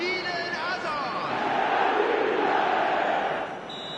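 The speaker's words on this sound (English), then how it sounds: "Now the crowd are demanding that they just finish this off." Stadium crowd in the eFootball 26 video game during an India match, a dense sustained roar of chanting and shouting fans swelling in the middle, with a commentator's voice over it.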